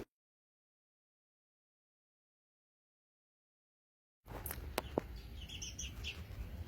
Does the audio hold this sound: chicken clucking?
no